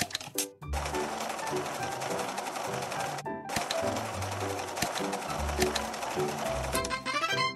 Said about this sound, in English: Let's sew the mask.